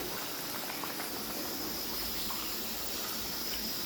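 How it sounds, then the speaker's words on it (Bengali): A covered pot of rice boiling on a stove, giving a faint, steady bubbling hiss that continues evenly without talk. "ওই যে ভাতের হাঁড়ি উড় দিয়ে দিয়েছি এখানে।"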